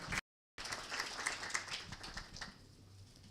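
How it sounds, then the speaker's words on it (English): Audience applause at an investor education conference: after a brief dropout, a crowd claps steadily with scattered distinct claps standing out, moderately distant and fairly quiet. "Let's give her a round of applause one more time."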